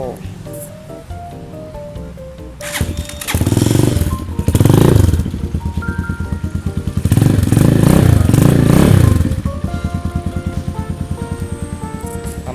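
A 2018 GPX Legend 150 motorcycle idles with a deep, muted exhaust, its engine surging in two louder revs before settling back to a steady, throbbing idle close by, with someone speaking over it.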